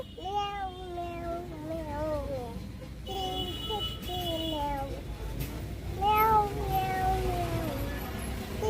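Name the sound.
child imitating cat meow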